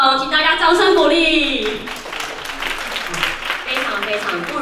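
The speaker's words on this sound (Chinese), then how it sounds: "请大家掌声鼓励。" Audience applause at a Hakka cooking show launch event, starting under a voice in the first two seconds, then continuing as a steady broadband wash of clapping from a crowd.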